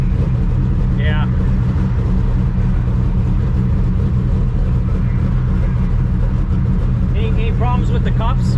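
Tri Five Chevy race car driven on the street, its engine a loud, constant low rumbling drone heard from inside the cabin, with faint brief squeaks and a voice speaking under the noise.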